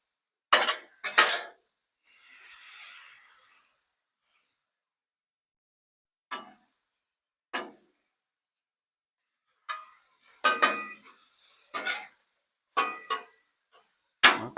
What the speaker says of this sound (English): our meat's coming along as well, so we're going to give that a good toss